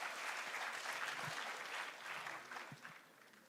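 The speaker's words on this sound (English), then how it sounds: "Can we have a huge round of applause for Dr." An audience at a college event applauds a speaker, with a full round of clapping that fades toward the end, a few louder claps standing out.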